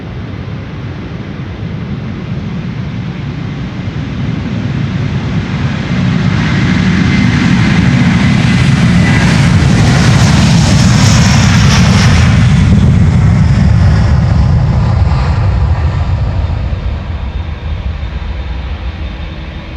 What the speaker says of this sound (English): We have Delta Airlines Flight 163. It's now spooling up